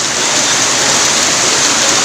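Heavy afternoon rain pours down in a loud, steady, unbroken roar that fills the whole stretch, with no voices over it.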